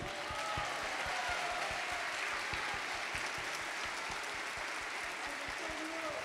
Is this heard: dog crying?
no